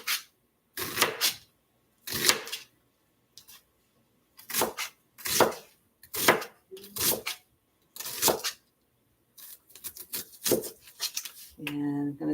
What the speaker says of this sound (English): I'm just chopping up this onion.